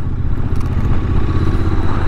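Old Royal Enfield motorcycle still being run in, ridden along a road through Provence olive groves, a loud, close, continuous engine rumble with clattering mechanical texture and no speech.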